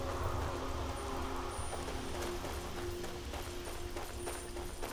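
Horse hooves clip-clopping in Skyrim, a run of soft rhythmic hoofbeats at moderate distance over a faint ambient bed, with no talking.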